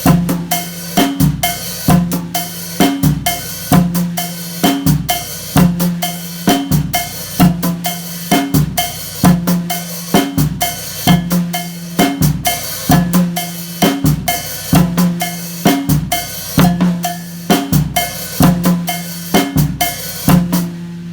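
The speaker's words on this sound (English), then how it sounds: "Only now we're going to add a quarter note pulse on the high bell" A drum set groove adapted from a guiro pattern, with a cowbell struck in a quarter-note pulse over a repeating hi-hat figure and low drum hits, loud, even and continuous throughout.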